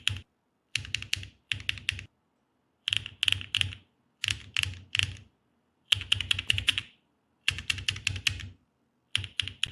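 Mechanical keyboard with matte keycaps typing in quick bursts of crisp, clacky keystrokes, separated by short pauses, close and fairly quiet, with no voices.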